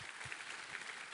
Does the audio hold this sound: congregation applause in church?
yes